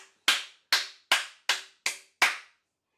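Six sharp, evenly spaced hand claps close to the mic, each one crisp and decaying quickly, then silence.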